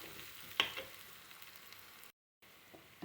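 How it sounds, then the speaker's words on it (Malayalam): Onion, garlic and curry leaves fry in oil for a long bean and raw plantain stir-fry, giving a faint, steady sizzle with one brief clink near the start and a short break of silence near the end. "നമ്മളെ ഉള്ളിയും വെളുത്തുള്ളിയും കറിവേപ്പിലൊക്കെ ഒക്കെ മൂത്ത് വരുന്നുണ്ട്"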